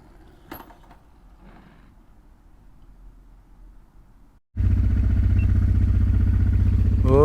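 Motorcycle with a dead battery push-started on wet ground: quiet scuffing and shuffling, then the engine abruptly catches and roars into a loud, steady running drone close by.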